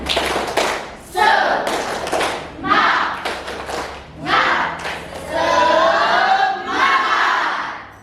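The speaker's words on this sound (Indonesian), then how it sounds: "Tepuk semangat." A class of students stands and does a rhythmic spirit clap in a classroom, with sharp clustered claps early on and then group voices chanting together, loud and close throughout.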